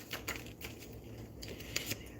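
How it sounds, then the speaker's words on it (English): A deck of tarot cards is shuffled up close, a quiet run of quick riffling clicks and soft slaps. "I'm going to shuffle."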